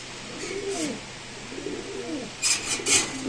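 Racing pigeons coo nearby in soft, repeated throaty rolls, followed by a few brief rustling bursts.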